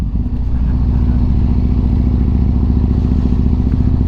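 The engine of a custom-built motorcycle idles steadily up close, a loud low throbbing rumble with a fast even beat and some mechanical clatter, running without pause and with no voices.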